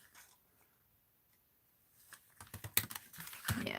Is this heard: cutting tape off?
yes